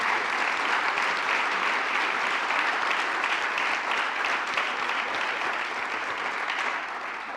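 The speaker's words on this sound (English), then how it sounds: "I'd like to give you all a round of applause for your hard work and for being here today" Sustained applause from an audience at a morning community forum fills the room, steady and dense throughout, with no speech over it.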